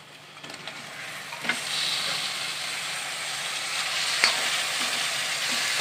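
Half a kilo of chicken pieces dropped into a hot pan for palak chicken curry, sizzling and frying steadily with a few sharp crackles and spatters, close and fairly loud, no speech.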